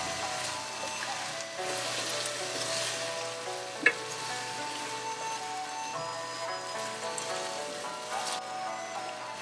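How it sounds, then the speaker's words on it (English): Chicken stir-frying with asparagus, green beans and coconut cream in a pan, giving a steady, close crackling sizzle throughout with one sharp clack of a utensil partway through. "Add the vegetables and coconut cream and stir fry until heated through"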